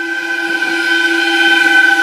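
A train horn blowing on the railway tracks, one loud, steady and sustained blast held through the whole clip with no break.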